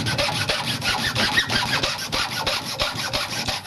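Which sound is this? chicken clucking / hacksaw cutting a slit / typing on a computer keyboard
hacksaw cutting a slit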